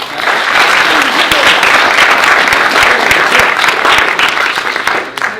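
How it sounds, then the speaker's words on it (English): A keynote audience at a college capstone competition breaks into loud, sustained applause, dense clapping filling the room from start to finish with a few sharper individual claps standing out near the front. "we're going to give him, you know, a round of applause"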